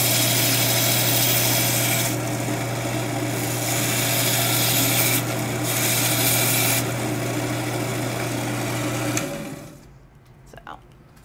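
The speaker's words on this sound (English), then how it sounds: "Just cutting down on the base here." A power tool trims the rock base of a coral frag, giving a continuous high-pitched whine with a steady hum that keeps going for about nine seconds, then stops abruptly, leaving faint handling sounds.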